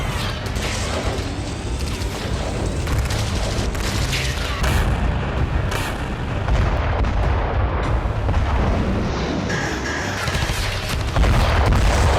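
A Russian artillery bombardment of its own territory in the Kursk region rumbles continuously with heavy booms and dense bursts of fire, loud and layered throughout with mechanical clatter mixed in.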